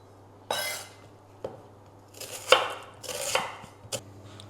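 A knife chops an onion on a board in several sharp, uneven strokes, close and crisp, with short quiet gaps between cuts and a low hum behind.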